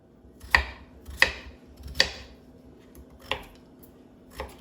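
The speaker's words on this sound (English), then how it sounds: "I'm also cutting up some potatoes for the mashed potatoes" A knife chops through potatoes on a cutting board while preparing mashed potatoes for Thanksgiving dinner, five distinct knocks at an uneven, unhurried pace, close and moderately loud, with no talking.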